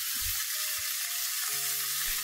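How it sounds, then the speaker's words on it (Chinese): Chicken thighs pan-fry in a wok before being stewed in beer, a soft, even sizzle running steadily throughout without speech. "我煎咗鸡髀先"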